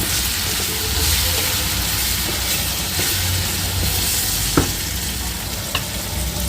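Ivy gourd sizzling in hot oil in a pan, a steady dense crackle with a couple of sharp clicks from stirring, close and continuous with no talking.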